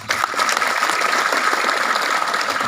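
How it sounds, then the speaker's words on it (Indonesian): Audience applause at a talk on national awareness and state defense given by an army lieutenant colonel, a dense, steady clapping from a crowd that starts abruptly and holds level throughout. "Baik, tepuk tangan."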